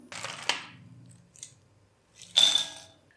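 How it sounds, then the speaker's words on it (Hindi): Hardened, crispy homemade caramel popcorn is snapped apart by hand and dropped into a bowl, giving a few close, dry crackling crunches separated by short pauses. "तो इसे हम तोड़ के अलग-अलग करते जाएंगे।"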